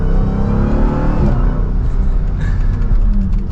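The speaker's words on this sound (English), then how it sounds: "hopefully you were able to hear a little bit of that supercharger whine. You can hear that exhaust too" A 2023 Dodge Durango SRT Hellcat's supercharged engine revs hard with a deep, throaty exhaust roar and a faint high supercharger whine riding over it, continuous for a few seconds.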